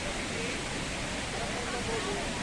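Cachoeira dos Macacos, a waterfall in Ceará, roars as a steady, dense broadband rush of falling water, loud and unbroken throughout.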